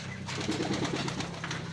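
Racing pigeons coo nearby in a low, rolling burble that repeats over a steady background hum, close and clear with no talking.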